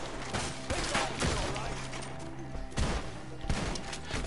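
Red Dead Redemption 2 gunfire erupts in a tree-side shootout, with repeated sharp shots and thuds scattered across the stretch under game dialogue and music.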